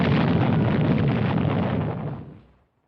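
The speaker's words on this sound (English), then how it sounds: "Then, a tremendous explosion on the surface of the sun." A tremendous explosion on the surface of the sun as a 1956 film sound effect: a dense, loud roaring blast that holds steady for about two seconds, then fades out.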